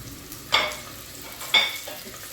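Onion dropped into hot oil for a chicken liver kamounia, sizzling close by with two sharp bursts of crackling about a second apart over a low hiss, no speech.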